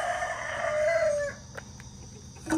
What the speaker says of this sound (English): We got a rooster out already this morning